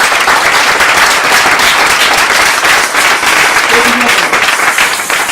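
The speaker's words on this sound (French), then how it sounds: "Si tu comprends, tu acclames pour ta vie." A church congregation breaks into loud, sustained applause that fills the room. The clapping and cheering are dense and continuous throughout, close and strong, with faint voices mixed in the crowd noise.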